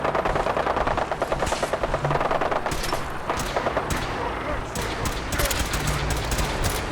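Rapid gunfire fills a Fallout 4 battle between Brotherhood soldiers and mutants, dense bursts of automatic shots crackling over one another at close range for the whole stretch.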